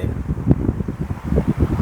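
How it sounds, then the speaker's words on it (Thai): A small electric fan whirs steadily up close, a soft airy hum with faint fluttering pulses, picked up by a Ulanzi J12 lavalier microphone with no talking. "พัดลมตัวนี้เลย หวังว่าทุกคนจะได้ยินนะครับ"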